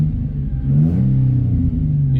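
A car engine revving, its pitch climbing and dipping slightly as the RPM rises; a steady close rumble with a low tone, heard alone.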